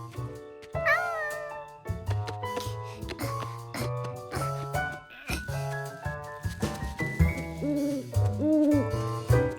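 A cartoon nocturnal bird calls at night on a farm, with a series of tonal hooting, wavering cries that rise and fall over a musical background, loud and close throughout.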